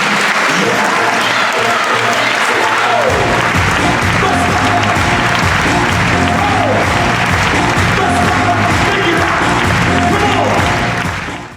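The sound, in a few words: loud applause for Alan Green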